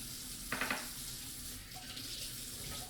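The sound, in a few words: filtered water running from a tap for sourdough starter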